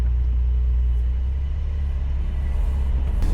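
A Porsche 992.2 Cabriolet's engine rumbles low and steady as it pulls away on a mountain pass road, a constant close drone without talk.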